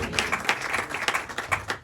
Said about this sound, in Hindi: आए आस्तर के लिए जोरदार तालियां